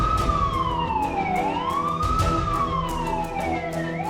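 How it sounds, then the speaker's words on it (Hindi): A wailing fire engine siren rises and falls in long sweeps, loud and steady, with traffic noise beneath it. "अरे फायर ब्रिगेड वाले आ गए।"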